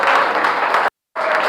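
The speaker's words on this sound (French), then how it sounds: "applaudissez pour Nathalie." Classroom applause in a physics-chemistry lesson at a technical high school, a dense burst of clapping from many students, cut off abruptly for a moment before resuming.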